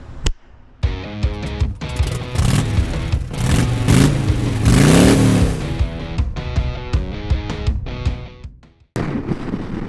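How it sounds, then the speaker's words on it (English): A brand-new 2024 Harley-Davidson Street Glide engine rumbles and revs loudly while riding, with rising acceleration through the gears, short throttle blips and steady wind rush, ending in a sudden cut. "we are on the brand new 2024 Street Glide heading to No Cages Harley Davidson"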